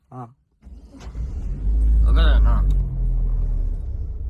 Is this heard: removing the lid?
no